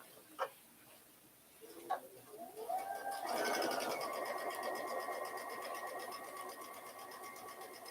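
A sewing machine stitches down a zipper by the yard, starting after a couple of soft clicks and settling into a steady, close, rapid mechanical whirring.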